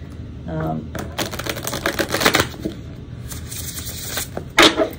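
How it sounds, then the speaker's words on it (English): Tarot deck printed on linen cardstock being shuffled by hand, with crisp bursts of riffling cards and soft clacks repeating in quick clusters at close range, plus a brief voice sound near the start. "how beautifully this linen cardstock shuffles, and also how fun it is to shuffle a deck that has different backs"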